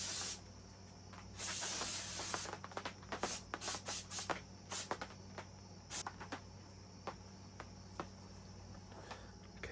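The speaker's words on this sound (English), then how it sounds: "we're still going to clean it off with brake cleaner." Brake cleaner hisses from an aerosol can onto a factory head gasket for a Subaru EJ25 engine rebuild, in one long spray followed by a run of short bursts, close up.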